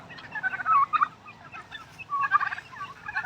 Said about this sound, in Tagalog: Binubutburan niya ng palay. Kasama ang pato, manok at pabo.